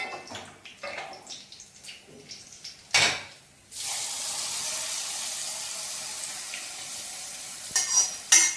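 Hot oil is poured over a vadukapuli lemon pickle mix with chili powder in a pan, setting off a loud burst of sizzling that settles into a sustained hiss, with a few clinks from utensils.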